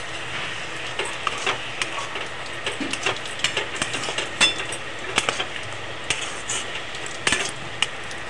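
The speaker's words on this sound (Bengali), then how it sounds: "ভালো করে মশলাটা দিয়ে কষিয়ে নেব শাপলাটাকে" Water lily stems being sautéed in a coconut, poppy seed, white and black mustard, green chilli and turmeric masala, giving a steady sizzle broken by sharp scraping and clinking stirs of a spatula against the pan.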